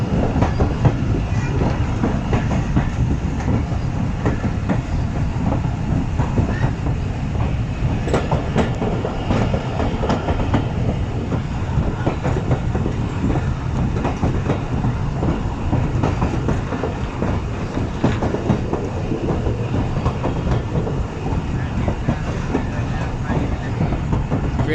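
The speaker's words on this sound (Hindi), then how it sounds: "ट्रेन स्लो इसलिए क्योंकि इस ब्रिज पर 15 किलोमीटर फी घंटा की स्पीड अलाउ है।" The Thall Express train rolls slowly across a railway bridge near a river, a continuous close rumble with steady clickety-clack of wheels over the rails throughout.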